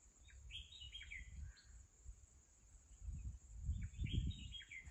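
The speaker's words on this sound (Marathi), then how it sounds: "भयान शांतता आणि पाखरांच्या ओरडण्याचा आवाज तर स्पष्टपणे ऐकायला" Birds call and chirp in a quiet forest at Kaladgad fort, with short bright phrases at the start and end, faint insect hiss behind and soft low rumbles, no talking.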